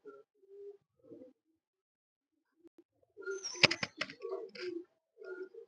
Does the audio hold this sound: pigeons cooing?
yes